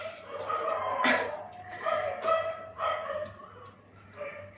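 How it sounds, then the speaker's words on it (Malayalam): Dogs bark in a few separate bursts at moderate distance, sharp barks spaced irregularly over a quiet background. "നായ്ക്കൾ കുരയ്ക്കുന്നു."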